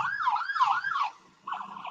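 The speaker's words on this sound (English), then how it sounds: "that one ambulance sounds" An ambulance siren wails in a rising and falling pattern, fairly close, briefly pausing before starting again.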